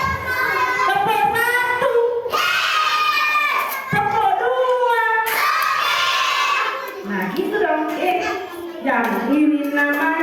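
Children in a group play a clapping game, their hands striking together amid loud chanting and shouting voices, with the claps mixed in close under the energetic group vocals.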